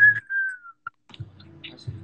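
A person whistles a short, bright rising-and-falling phrase, followed by a few faint scattered clicks and rustles nearby.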